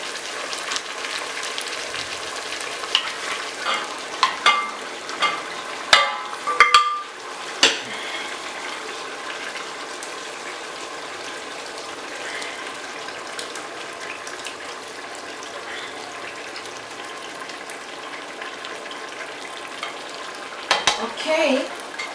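Fish cooking in a spicy black Cameroonian stew, mbongo tchobi, sizzles softly and steadily while a spoon scrapes and knocks against the pot in a cluster of sharp taps early on and again near the end.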